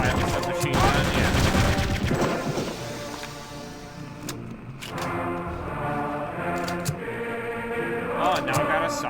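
Gunfire from a World War II shooter video game, with scattered shots and bursts mixed into game sound and a talking voice.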